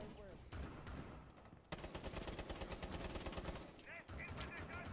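Rapid automatic gunfire in Rainbow Six Siege bursts out loud and sustained after a brief lull, with sharp repeated shots layered over game sounds and a few scattered voices.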